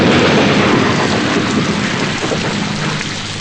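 Heavy rain pours down in a dense, loud, unbroken hiss, with a low rumble of thunder beneath it and no voices.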